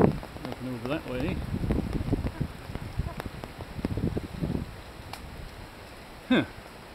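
Storm rain falls steadily as a soft, broad patter throughout, partly under someone talking nearby, with a brief louder knock near the end.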